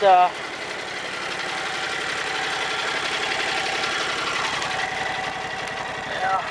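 An air compressor building pressure runs as a steady mechanical chugging drone, close and continuous, with a voice talking over it at the start and end.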